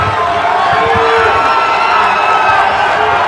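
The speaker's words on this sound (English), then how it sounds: "the crowd is trying to pick up" Boxing arena crowd cheering and roaring during an exciting round of a main event fight, a dense continuous wall of voices with a commentator talking over it.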